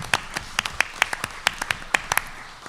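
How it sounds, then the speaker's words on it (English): Scattered hand claps from a small audience at a Kenner city council meeting, cheering the Memorial Day organizers. The claps are irregular, distinct and moderately close, with no talking. "let's give them a big round of applause for a job well done"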